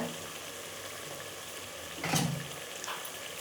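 Rice tipped into vangi baath masala frying in a pan makes a steady sizzle that bursts louder for a moment as the grains land, then settles, with no one talking.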